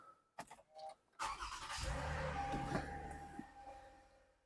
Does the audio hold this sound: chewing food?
no